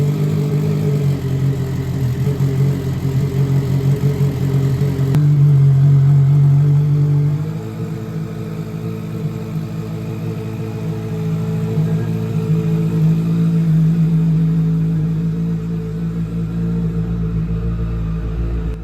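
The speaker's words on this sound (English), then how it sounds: "After the idle settled down a little, it started to sound pretty mean." A turbocharged CBR 1000 motorcycle engine swapped into a Miata idles loudly and close, with a deep, uneven rumble, a brief higher rise early on, then settling into a lower, steady idle.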